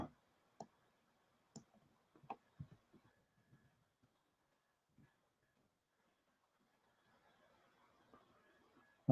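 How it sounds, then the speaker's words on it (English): Scattered keyboard clicks of someone typing in Arabic come sparse and faint in a quiet room, with irregular gaps and a soft hum near the end. "I'm typing in Arabic"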